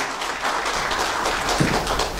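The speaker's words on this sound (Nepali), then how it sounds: "कृपया जोरदार ताली बजाइदिनु होला उहाँको लागि।" Crowd applause greets the chief guest taking his seat at the opening ceremony of a media organisation, a dense, even wash of clapping filling the short stretch without pause.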